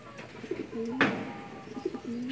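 Breeder pigeons cooing nearby in a loft, soft repeated throaty coos rising and falling in short phrases, with a brief burst of rustling noise partway through.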